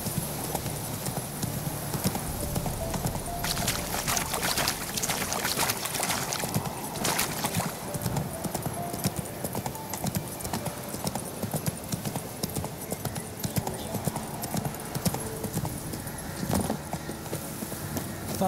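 Hooves of the horse in The Witcher 3 clip-clop in a steady trotting rhythm across the whole stretch, set against a busy, dense bed of game ambience.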